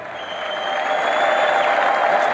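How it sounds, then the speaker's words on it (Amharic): Church congregation at Nazreth Emmanuel United Church fills the room with loud, continuous applause and shouting, a steady roaring wash of crowd noise that swells slightly and holds without breaks. "ድብልቅልቅ ያለ እልልታ፣ ጭብጨባ፣ ሆታ፣ ጩኸት"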